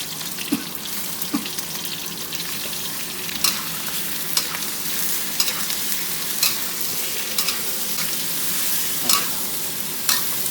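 Garlic and shallots stir-frying in a pan for a Thai salted-egg stir-fry, a steady close sizzle with repeated scraping strokes of the spatula and occasional sharper clinks, no talking.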